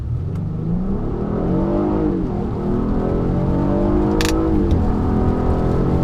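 A 2018 Acura TLX A-Spec SH-AWD V6 accelerates with a steady, rising engine drone, the pitch sweeping up through the gears with a brief dip at a shift, heard continuously from inside the car.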